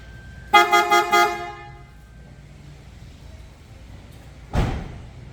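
A loud, close aftermarket PIAA sports car horn on a Suzuki Jimny JB43 gives four quick rhythmic toots in a row, then quiet, followed by a brief thud like a door shutting.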